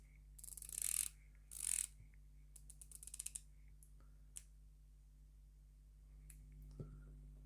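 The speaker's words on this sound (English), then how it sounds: "So let's see what sounds the bezels make. This is the SteelDive." A SteelDive dive watch bezel being rotated, giving two loud bursts of ratcheting clicks followed by a series of sparser, fainter single clicks in a quiet room.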